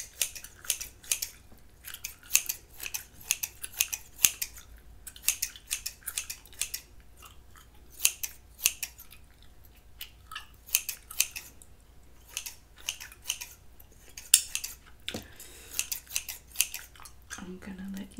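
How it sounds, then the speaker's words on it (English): Close, crisp scissor snips cut hair in quick irregular bursts throughout, with soft gum chewing and faint speech in between. "just gonna cut a little bit."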